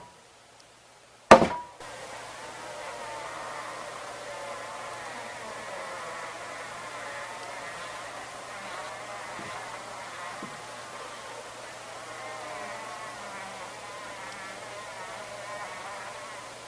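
Carpenter bees buzzing inside a wooden window sash: a single sharp knock on the wood, then a steady, faint, continuous hum of live bees that carries on alone.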